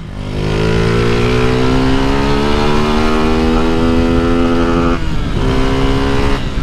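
A Honda CG motorcycle with a modified carburetor holds a loud, steady high-rpm rev in the city, with clear rising harmonics and a brief dip near the end, close and continuous.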